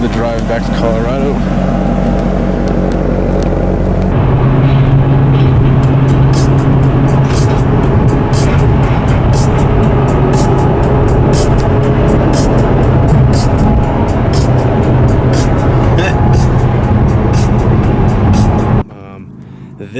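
An exotic car drives on a long road trip to Colorado, its engine drone and road noise steady and loud from start to finish, with a sharp drop at the very end.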